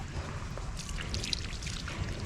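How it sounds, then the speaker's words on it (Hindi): Water pours steadily onto a newly planted Arcacia sapling at an outdoor Environment Day planting at a railway wagon repair shop, a soft continuous trickling splash at moderate distance with low background rumble. "थोड़ा सा और पानी डाल,"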